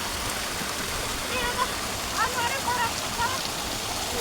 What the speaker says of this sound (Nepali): यहाँ हेर्नुहोस् त ढुङ्गे धारामा